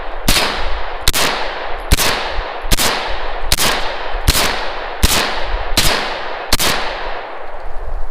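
Glock pistol test-fired with Korean-made magazines: nine loud, sharp shots at a steady pace of roughly one per second, each with a ringing decay, no talking.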